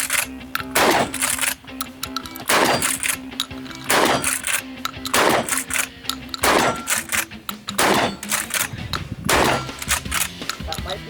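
Shotgun blasts ringing off steel targets, around eight evenly spaced loud shots each followed by a metallic clang, close and sharp over outdoor background.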